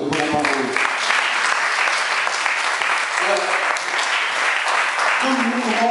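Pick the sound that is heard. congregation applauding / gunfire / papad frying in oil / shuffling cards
congregation applauding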